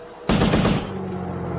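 A sudden loud burst of automatic fire from a remote weapon module, a rapid run of shots lasting about half a second that trails off into a lingering rumbling echo.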